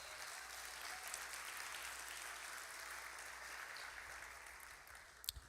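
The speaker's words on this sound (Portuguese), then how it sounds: "Você podia aplaudir o Senhor por isso?" A church congregation applauds during a Sunday service, a soft, even roar of many hands clapping heard from a distance for several seconds, ending with a couple of sharper nearby knocks.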